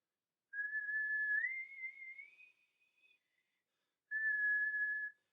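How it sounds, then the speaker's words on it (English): A person whistles clear, high pitches alone in a quiet room: one long sustained tone that slides upward and then tapers off, a short pause, then a second steady high note. "focus on what your tongue is doing as you're whistling the higher pitches"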